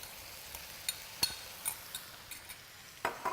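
A sauce mixture goes into a wok of beef mince stir-fry, a soft low sizzle punctuated by scattered light clinks and scrapes of a utensil stirring, fairly quiet and close.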